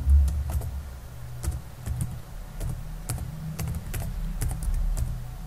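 Computer keyboard typing while entering an npm install command, with clustered key clicks in an irregular rhythm over a steady low hum, close and moderately loud.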